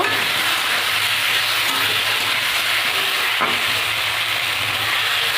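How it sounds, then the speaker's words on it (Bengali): Bengali masala spice paste for a fish curry frying steadily in a pan, a dense, continuous sizzle with light stirring scrapes, close and fairly loud with no voices. "মশলাটা একটু ভালো করে কষিয়ে নেব"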